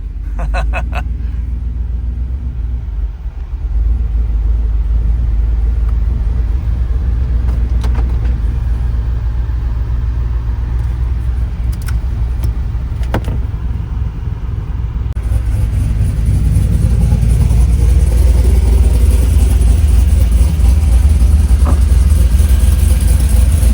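Inside a 2024 GMC 1500 4x4 with a swapped, cammed 6.6L engine, a deep lumpy idle rumbles steadily, then swells louder as the engine revs up and pulls harder toward the end.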